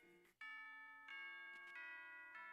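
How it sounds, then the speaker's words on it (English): School bell in Pokemon Ultra Moon rings as a sustained electronic chime with several bright, ringing tones that restart a few times. It is fairly faint and heard alone. "Oh, that's the school bell."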